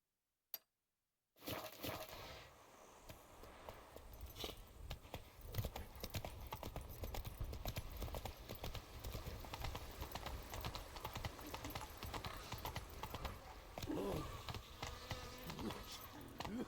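Roach the horse's hooves clip-clop in a steady walking rhythm in the game Witcher 3, close and continuous after a short silent start, over a buzzing ambient bed with faint game sounds.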